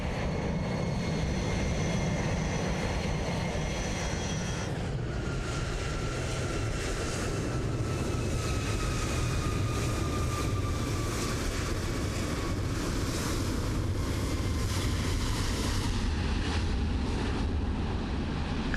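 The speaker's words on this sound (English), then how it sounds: "Got a United departing." A United airliner departs in Microsoft Flight Simulator 2024, its steady broadband jet roar rising with a whining engine tone that slowly falls in pitch, loud and continuous with no talk.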